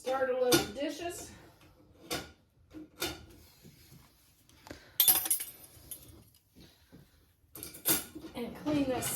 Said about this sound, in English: We will start a load of dishes.